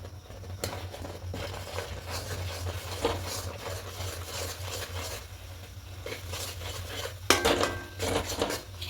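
A utensil scrapes and clinks against a pot while a rice flour mixture is stirred, producing steady metallic scraping and tapping with a sharper clatter near the end, no talk.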